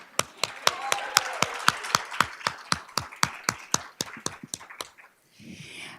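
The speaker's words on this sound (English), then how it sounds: "let's give him a round of applause" An audience applauds an honored educator at an Educator of the Year recognition event, a series of sharp, evenly spaced claps that fade out near the end, followed by faint murmuring.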